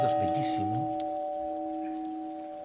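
A large church bell's sustained tone hangs and slowly fades away, a steady ringing hum after the strike, with a brief voice at the very start.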